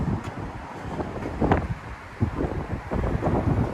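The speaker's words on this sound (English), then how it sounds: "It's kind of windy." Gusty wind buffeting the microphone at the Mount Vernon West Metro-North railroad station, a continuous low rumble with rising and falling surges throughout.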